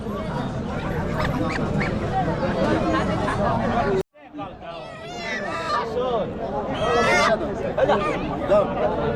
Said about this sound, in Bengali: আমরা অনেক হাঁস উঠেছে বাজারে দেখতে পেলাম